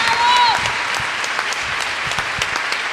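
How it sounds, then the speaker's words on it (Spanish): Loud applause from a church congregation praising God during a sermon, a dense burst of many hands clapping close by, with a brief whistle-like tone at the start and faint voices mixed in. "fuerte el aplauso al Señor"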